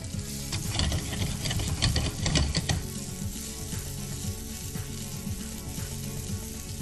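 Diced onion is stir-fried and tossed in a pan, with rapid clattering scrapes of a spatula over a steady frying sizzle, busiest at first and then settling into a gentler rhythm.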